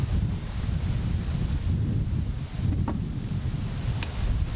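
Wind gusting around a beehive in a backyard, a continuous low rumbling buffet on the microphone that rises and falls, with a faint brief click near the end and no speech.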